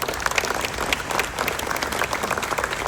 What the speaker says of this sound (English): Let's hear a round of applause for our board